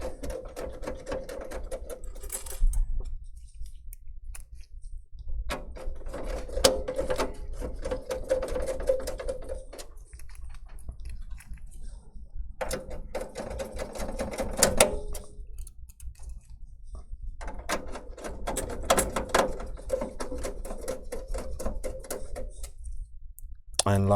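Several bursts of squeaky, clicking turning sounds come as screws are driven into a GIGABYTE H610M motherboard, the sets of turns separated by short quiet gaps.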